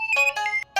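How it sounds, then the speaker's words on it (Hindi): A short electronic phone ringtone plays a bright, melodic burst of tones, loud and close, with a brief gap before it resumes. "फोन आया, देखना।"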